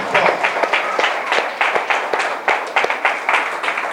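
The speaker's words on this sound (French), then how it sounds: "Applaudissez, applaudissez le Seigneur." A congregation at a deliverance seminar in Haiti claps in quick, uneven bursts, a lively close patter of many hands with rhythmic accents throughout.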